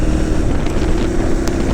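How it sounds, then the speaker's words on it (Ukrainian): A KTM 990 Adventure S motorcycle engine drones steadily at low throttle while riding, a constant hum mixed with heavy wind rush, with no talk. "Помало помало можна теж їздити на цьому мотоциклі, так?"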